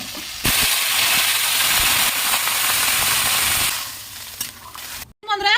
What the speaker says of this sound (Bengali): এখন জলটা ঢেলে দেবো